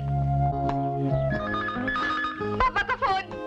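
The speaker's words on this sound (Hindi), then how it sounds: "पापा का फोन।" A telephone rings with repeated electronic tones, loud and close, the pattern shifting in pitch over a few seconds.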